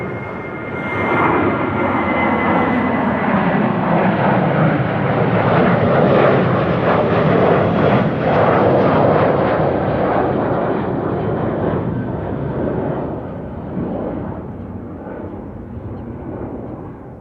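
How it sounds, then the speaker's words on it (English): A Boeing 737 at Amsterdam Schiphol Airport roars past with a loud, broad engine rumble that swells over several seconds and then slowly fades as it moves away. "The workhorse of the fleet, the 737. The old workhorse."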